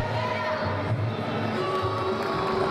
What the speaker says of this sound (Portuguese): E a torcida vai gritando aí o nome do Nuno.